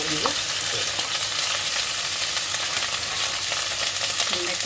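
Okra and green chillies sauté in oil, giving a constant close sizzle with occasional soft stirring scrapes throughout.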